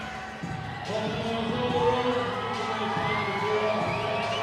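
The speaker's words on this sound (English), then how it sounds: "And the crowd is hyped." A basketball crowd at a Toundra Montréal versus Rogues Terre-Neuve game cheers and shouts, a loud, dense roar of voices with rising whoops that swells after a brief quieter moment and holds steady throughout.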